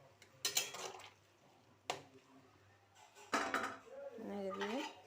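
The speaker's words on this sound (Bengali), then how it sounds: "একটু নেড়ে দেব" A utensil stirs potato and cauliflower curry with poppy seed paste in a pot, giving a few sharp metallic clinks and scrapes spaced apart, with a brief voice speaking near the end.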